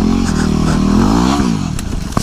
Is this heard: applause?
no